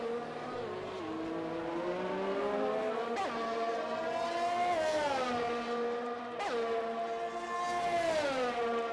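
Formula racing cars in a Netherlands Grand Prix race game, high engine whine that climbs through the gears and drops sharply at each shift, with several cars heard together and a commentator faintly underneath.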